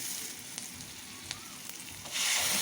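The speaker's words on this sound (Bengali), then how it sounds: "পেঁয়াজ ভেজে নিলাম, নুন দিয়ে দিয়েছি।" Onions frying with salt in a pan sizzle steadily throughout with a few faint ticks, then the hiss swells louder near the end.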